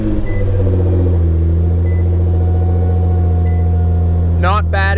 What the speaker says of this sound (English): We'll go for a quick cold start first.